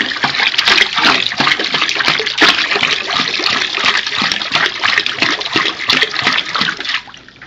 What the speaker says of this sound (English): That's splashing around a little bit too much for me